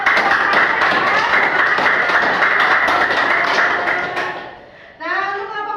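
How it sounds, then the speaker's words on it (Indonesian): A classroom of students claps together after a group presentation during a teaching-practice lesson in an Indonesian school. The clapping is dense and steady for about four seconds, then fades, and a voice starts speaking. "Tepuk tangan."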